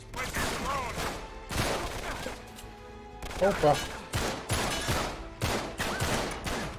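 Gunfire from a firefight in the video game Uncharted 3, set in the London Underground: repeated sharp bursts of shots in quick volleys with short gaps, close and loud, with a person talking briefly between them.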